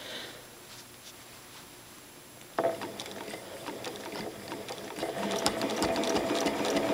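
A sewing machine stitches curved crosshatching on fabric. It starts as a faint hum, then at about two and a half seconds it kicks into a loud, steady, close needle rattle that builds slightly in speed and intensity.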